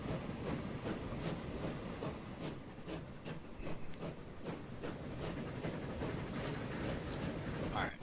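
A video-game train in Transport Fever runs steadily along its line, a continuous rolling rumble with a regular rhythmic clatter of wheels and faint hiss throughout.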